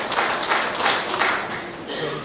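Audience at an air cargo industry conference applauding a speaker, a moderate wash of many hands clapping that rises and falls over about two seconds, with voices mixed in.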